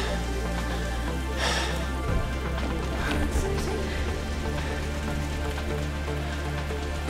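Rain falls steadily at Milford Sound, a dense patter of drops on surfaces with a few louder splashes and brief bursts, continuous and close with no voices.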